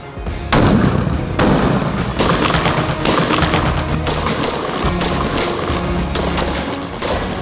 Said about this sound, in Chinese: 开保险，开始射击。